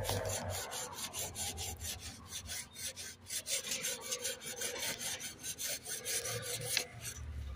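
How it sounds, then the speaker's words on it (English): Metal file rasping back and forth against the wall of a Range Rover Sport 3.0 throttle body housing, a steady close scraping with rhythmic strokes and no talk. "So I'm going to use this file here to file down a little bit of the wall of the throttle body."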